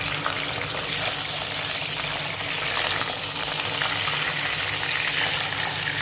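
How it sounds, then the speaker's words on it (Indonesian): Mackerel pieces fry in oil heated until very hot, giving a steady, loud crackling sizzle and hiss that runs unbroken, with no voices over it. "Kita goreng ikannya dengan minyak yang udah panas begini"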